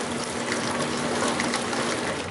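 An Enxuta automatic dishwasher releasing water, a steady close rush and gurgle of flowing liquid with a faint pump hum underneath, no voices.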